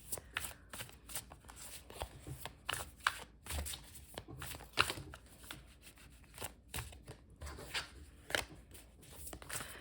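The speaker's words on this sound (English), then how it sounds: "Just shuffling a bunch of times here." Repeated riffle-and-bridge shuffling of a tarot deck, the cards flicked together over and over in quick, uneven bursts, close and crisp.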